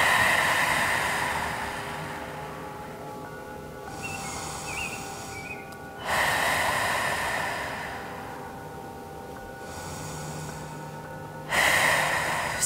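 Slow, deep breaths during an outdoor yoga session: long airy inhales and exhales swell and fade in a steady cycle, with a quiet outdoor ambience and hiss in between.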